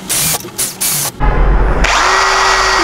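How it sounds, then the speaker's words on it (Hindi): A power drill fitted with a 19 mm bit bores holes through foam for a tufted headboard, loud whirring in short bursts with brief pauses, then a longer continuous run. "अभी हमारे को 19 mm की हमारी ये डाई है फोम निकालने की बिट, इससे हम ऐसे सुराख मार के सारा फोम निकालेंगे"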